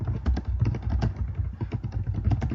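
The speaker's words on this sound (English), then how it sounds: "You can hear my typing" Steady, rapid clacking of keys on a computer keyboard, close and fairly loud, continuing without pause through the short stretch.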